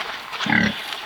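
A pig gives one short, close grunting oink amid quiet farmyard surroundings in rural Romania.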